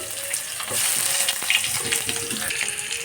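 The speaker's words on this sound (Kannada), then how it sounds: "ನೋಡಿರಿ, ಬೆಳ್ಳುಳ್ಳಿ ಒಗ್ಗರಣೆ ಆಗೈತಿ" Garlic tempering for a quick tomato rasam, frying in very hot oil after onion: a loud, close, continuous sizzle with bursts of crackle and a stirring scrape, no voice.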